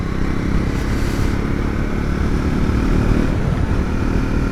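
A Triumph Scrambler 400X motorcycle cruises in sixth gear at around 4,500 RPM, its engine droning steadily and loudly under rushing wind noise, with no speech.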